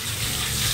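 Running tap water pours over a male cat during a bath, a brief, loud, steady gushing splash heard up close.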